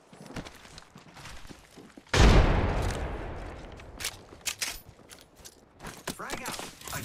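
A frag grenade detonates in Apex Legends Season 10 with one loud, close blast and a long decaying rumble, followed by scattered gunfire, thuds and footsteps, with brief voice callouts around it.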